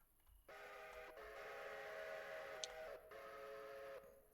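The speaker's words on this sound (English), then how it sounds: "I'm running the whistle on the decapod." A steam whistle blows on a Decapod locomotive in the railroad game Railroader, one long steady blast held for several seconds, moderately loud, with a brief break near the end and no speech.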